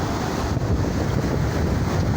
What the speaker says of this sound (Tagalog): Pinakita ko lang po sa inyo itong karagatan dito sa amin, kung gaano kalalaki ang alon